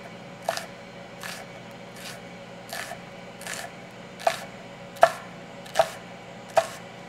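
A knife thinly slices onions by hand, making eight or nine crisp, evenly spaced cuts that land about once per second and grow slightly louder toward the end, with no talking.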